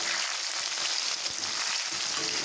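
Turmeric, chili powder and salt are mixed together for a mango pickle, giving a steady, close, hissing scrape with no voices.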